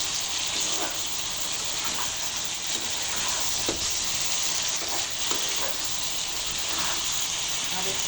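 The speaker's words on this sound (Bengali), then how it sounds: "আর একটু কষিয়ে নিচ্ছি ভালোভাবে, যাতে ডাঁটার ভিতর মশলাটা ঢুকে" Drumstick stems and prawns with spices sizzle in a hot pan, a steady frying hiss broken by occasional scraping stirs, with no one speaking.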